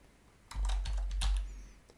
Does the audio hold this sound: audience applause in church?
no